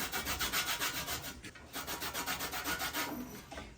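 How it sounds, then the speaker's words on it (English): A lemon rubs against a handheld grater to make fresh zest in a home kitchen. The scraping comes in a quick, even run of close, soft rasping strokes with a brief pause partway through. "Let's go ahead and get some lemon zest done"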